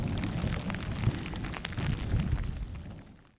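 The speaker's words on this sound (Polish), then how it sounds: "takie grzmoty są, tak wali burza" Thunder from a winter storm over a river rolls as a deep, continuous rumble for a few seconds, with dense low noise like heavy weather and no voices.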